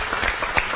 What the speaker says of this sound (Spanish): el aplauso para Jorge que está hoy con nosotros